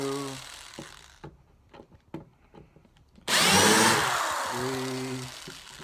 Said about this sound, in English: I put my countersink piece in here. Go to the pilot holes.